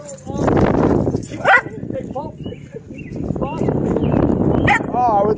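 A Doberman at a park yelps, whimpers and gives short barks close by, its high whines rising over steady talk from people nearby.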